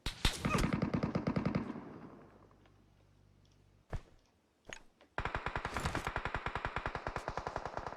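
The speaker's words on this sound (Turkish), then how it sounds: "Oradan bir yerden biri sıktı." Automatic gunfire in the mobile battle royale game PUBG Mobile, with loud rapid bursts at the start, a few scattered single shots, then a long steady stream of close shots with no talk.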